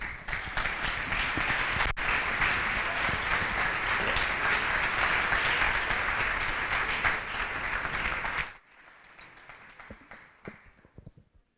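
Sustained, dense audience applause for lecturer Peter Williams at an evening talk, loud and steady for about eight seconds before dropping to a faint scattered patter of a few remaining claps.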